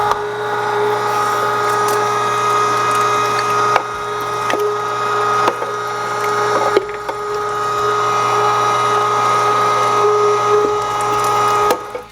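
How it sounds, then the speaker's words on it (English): Electric meat grinder pushing venison through a 3/8 inch plate, a steady loud motor whine running continuously for the whole stretch with a few brief clicks and knocks, no talking. "Now that we're ready to grind, I have my grinder set up"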